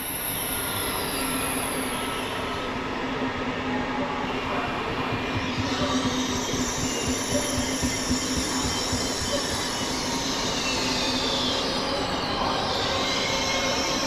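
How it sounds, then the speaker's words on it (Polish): An Intercity Premium express from Gdynia to Kraków rolls into Warszawa Zachodnia station, a loud steady rumble of wheels with high wheel squeal rising and fading, rhythmic clatter over rail joints in the middle. "Wjeżdża także ekspres Intercity Premium z Gdyni do Krakowa."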